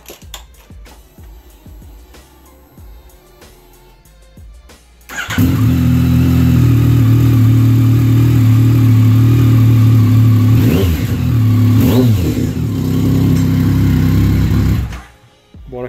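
Yamaha MT-09 Tracer motorcycle with an Arrow exhaust modified with a DB killer, quiet ticking idle ambience, then the engine fires up into a loud, steady, throaty idle with a couple of sharp revs before cutting off.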